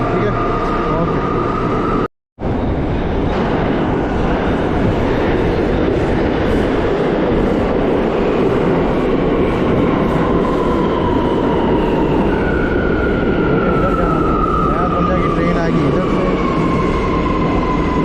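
A New York subway train rumbles into an underground station, a loud, steady roar with rising metallic squeals and screeches from the wheels as it slows, under someone speaking.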